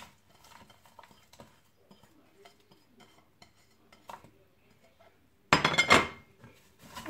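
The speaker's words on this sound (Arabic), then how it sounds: "صافي نبقى نشحرو" Spoon stirring mullet as it sautés in butter in a pan for fish-filled briouats, soft scraping and light clinks that end in a louder clattering burst near the close.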